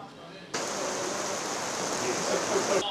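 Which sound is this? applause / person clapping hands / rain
rain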